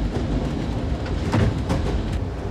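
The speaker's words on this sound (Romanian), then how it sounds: "Vedeți că trenul ăsta merge în Italia până la Bahita." A train rolls past with a steady broadband rumble and intermittent rail clatter, fairly close and continuous, with no talking over it.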